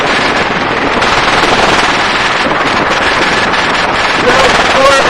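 An automatic weapon fires from a helicopter gunship, a loud, dense, rapid burst of shots blended with heavy rotor and wind roar throughout.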